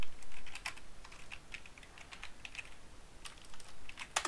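Rapid typing on a computer keyboard, a steady run of close, crisp key clicks with brief pauses, no voices.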